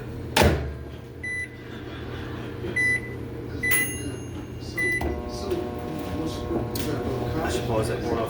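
A microwave hums steadily while melting leftover butter, with a few sharp clicks and beeps, a door or cupboard thump, and a person talking over it.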